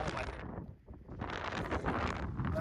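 Strong sea wind buffets and roars across the microphone in gusts, with a brief lull before blowing hard again.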